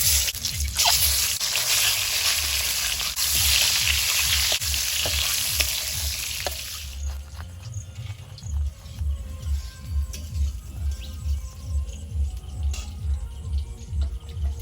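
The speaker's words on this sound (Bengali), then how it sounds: "ডিমগুলো ভেজে নেব" Eggs frying in hot oil in a wok with a pinch of turmeric: a loud, steady sizzle for about seven seconds, then quieter spatters and rhythmic stirring and scraping knocks, with no talking.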